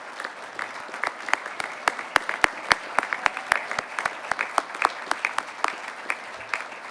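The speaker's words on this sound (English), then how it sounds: "just get a round of applause just to thank you again personally" Applause for standing parents at a scholarship awards dinner, sparse and fairly near, with distinct sharp claps in an irregular rhythm rather than a dense roar, steady for about seven seconds.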